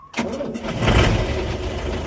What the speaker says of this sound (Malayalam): ആദ്യം വണ്ടി ന്യൂട്രാക്കിയിട്ട് വണ്ടി ഒന്ന് സ്റ്റാർട്ട് ചെയ്തിരണം